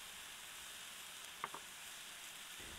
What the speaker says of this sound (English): this is why I love cooking on a flat top griddle